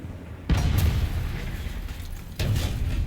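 A T-55AM-1 tank's cannon fires in War Thunder, two heavy booms about two seconds apart, each followed by a sustained rumbling roar, with no talk.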